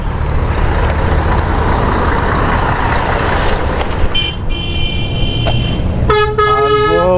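Heavy traffic rumbles throughout, then a car horn sounds in short toots near the end, loud and close over the engine noise, heard from a bicycle in Santa Rosa traffic.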